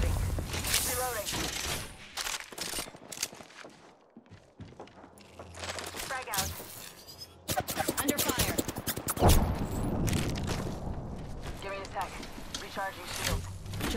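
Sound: gunfire in the video game Apex Legends

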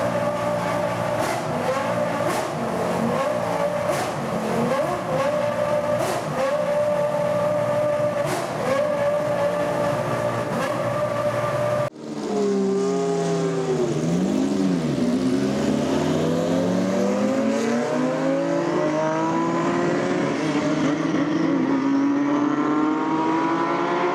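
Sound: historic Formula 1 Jaguar R3 race cars driving

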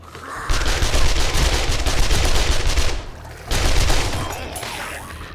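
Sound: submachine gun fire in 7 Days to Die video game

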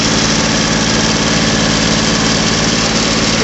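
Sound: John Deere 5055E tractor engine running

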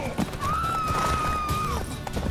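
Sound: horse neighing and hooves in the video game The Witcher 3

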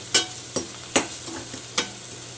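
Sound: roasting vegetables mixed with coriander, cumin and chili powder

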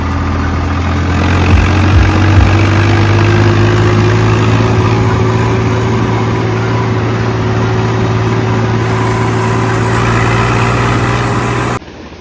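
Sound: tractor engine running on a farm field

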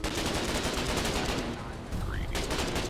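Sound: gunfire and firebombing in the video game Foxhole

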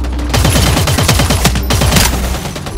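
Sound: gunfire in the video game Eve Vanguard

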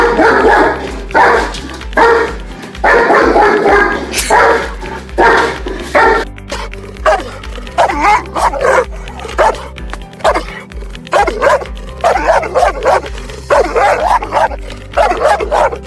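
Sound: dogs barking, German Shepherd and Cane Corso

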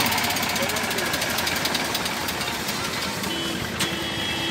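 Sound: Eicher 548 tractor engine idling, 3-cylinder air-cooled

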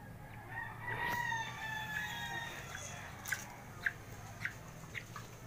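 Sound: Serama bantam chickens crowing and clucking

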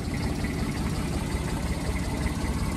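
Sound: JCB VMT160 roller Kubota engine idling

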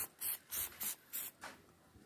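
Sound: spraying MKP fertilizer solution on grape flowers and leaves

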